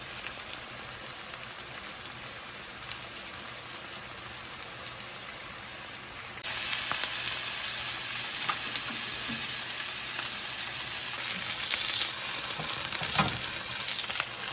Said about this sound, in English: We're just going to sear it on each side.